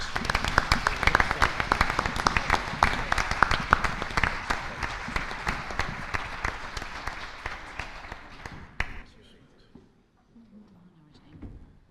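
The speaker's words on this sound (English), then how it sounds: "Please give them a big round of applause." A school board meeting audience applauds certificate recipients, with loud, dense clapping sustained for about nine seconds before stopping abruptly, then faint room noise and a brief murmur of voices.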